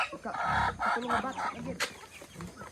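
Chickens clucking up close in short, busy bursts, with a brief sharper call partway through.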